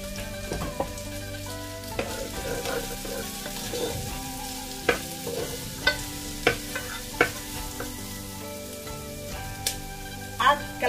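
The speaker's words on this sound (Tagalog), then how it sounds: "Gisa na ang sibuyas" Onion and garlic sauté in a pan for a beef stew: a continuous sizzle with repeated sharp clinks and scrapes of a utensil against the pan, some at regular intervals, plus faint background tones.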